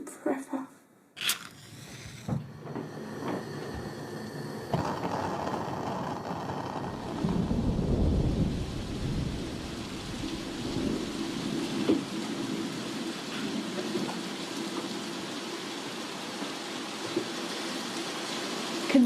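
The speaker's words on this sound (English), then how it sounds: "Most spectacular thunderstorm," A heavy thunderstorm downpour, with rain roaring as a steady broadband hiss and a deep rumble of thunder swelling midway before the rain carries on.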